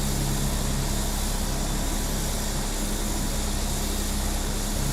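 Light propeller aircraft engines drone steadily and loudly in flight, a continuous broadband roar with a low hum underneath and no pauses across the whole stretch.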